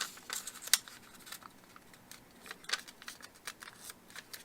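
Square sheet of origami paper being folded and creased for a Chinese bell flower, giving a string of crisp, dry papery crackles and rustles, one sharper snap near the start and another midway, close and quiet with no talking.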